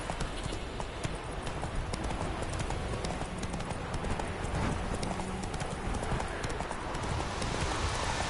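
Hooves of the horse Roach clip-clop rapidly in a steady gallop in The Witcher 3, loud and continuous, with a faint voice underneath.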